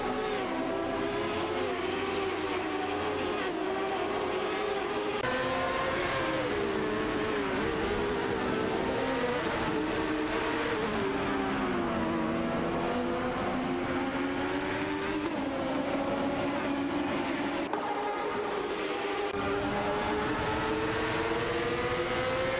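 Race car engines in a video game race, layered high-pitched whines rising and falling as cars overtake one another, a continuous loud droning with shifting pitch.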